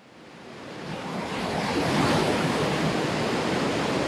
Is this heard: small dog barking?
no